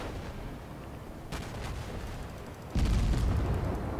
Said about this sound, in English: There's bullets coming out of the smoke.